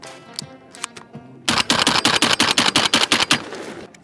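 A rapid burst of gunfire rings out close and loud in freezing cold, a dozen or so sharp evenly spaced shots after a few quieter clicks, testing a gun lubricated with Otis Dry Lube.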